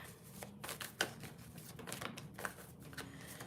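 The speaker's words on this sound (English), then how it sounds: "let me give these a little shuffle" Tarot cards shuffled by hand, a papery riffling and flicking made of quick soft bursts with a few sharper snaps, close and fairly quiet, with no talking.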